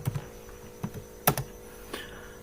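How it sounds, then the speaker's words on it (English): Several clattering computer keyboard keystrokes as a line of Scala code is typed, sparse and uneven in short bursts over a faint steady mains hum, close and fairly quiet. "for now I will type a string, will be equals to John"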